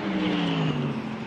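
A GT race car at Phillip Island pulls away after an anti-stall, its engine a rough, strained drone with shifting tone, heard at moderate distance with no voices.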